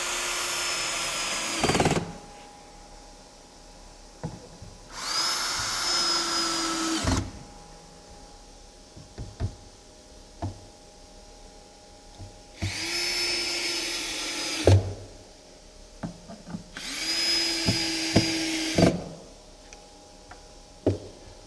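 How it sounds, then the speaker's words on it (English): Wall framing is fastened to a plumbed wall starter in a house build, with bursts of whining power-tool noise lasting about two seconds each, separated by sharp knocks and clatter, close and loud. "we're going to go ahead and nail it directly to the starter"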